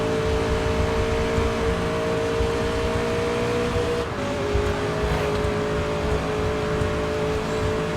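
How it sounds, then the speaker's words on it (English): A race car engine howls at full throttle in the TOCA Race Driver 3 video game, a loud sustained high drone that dips briefly mid-run before resuming. "Flat out through the right-hander."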